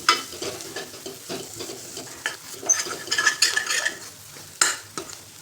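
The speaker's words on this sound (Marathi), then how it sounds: "ह्याला मिक्स करून घ्यायचे." Spices (asafoetida, red chilli powder, kala masala, coriander powder and a little fresh coriander) being stirred into a Maharashtrian modak curry in a pot: steady close scraping and stirring with a soft sizzle underneath, rising in brief louder bursts.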